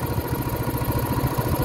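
A 1968 Moto Guzzi V7 700 motorcycle with freshly sleeved cylinders idles close by, a steady low, even thumping pulse with a slight mechanical clatter, heard alone.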